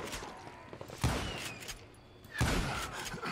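Gunshots in Call of Juarez: Gunslinger, two sharp cracks about a second and a half apart with brief reverberant tails over quiet game ambience.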